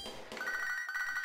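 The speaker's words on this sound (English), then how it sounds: "We have a phone call." In the Pokémon Soul Silver video game, a phone rings as a steady electronic tone that starts partway in and holds to the end, quiet with no talk over it.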